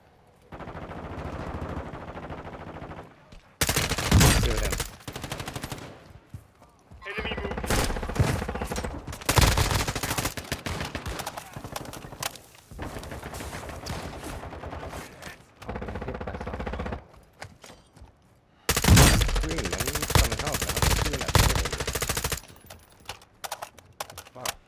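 Rapid bursts of simulated gunfire from a decoy grenade in Call of Duty DMZ, loud and close, coming in several long sputtering volleys separated by short pauses.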